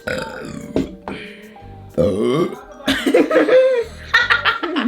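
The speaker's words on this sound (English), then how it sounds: "you just burped louder than me" A loud burp during a McDonald's mukbang, followed by bursts of laughter and coughing, close up, with voices breaking in between.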